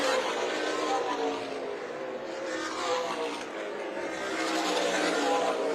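Super late model race cars roar past battling for the lead through a turn, a broad loud engine wash swelling and fading under announcer commentary.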